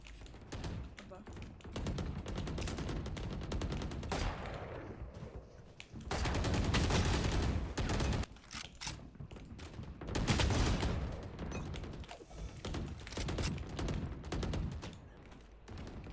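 Rapid video game gunfire bursts out in repeated volleys, dense rattling shots in clusters with brief pauses between them, steady and moderately loud throughout.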